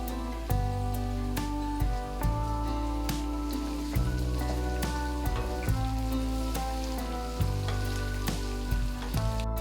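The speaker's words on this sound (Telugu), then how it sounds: "ఒక రెమ్మ కరివేపాకు ఒక టమాటోను కూడా చిన్నగా కట్ చేసి వేసుకొని ఫ్రై చేయండి" Curry leaves and chopped tomato fry in hot oil with a steady, close sizzle and crackle. Stirring scrapes and clinks recur at intervals over the sizzle, and no one speaks.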